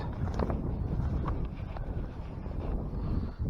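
Steady wind buffets the microphone beside an Iowa farm pond in spring while a fishing line is cast, a loud, continuous broadband rumble with a few faint higher clicks, no voices.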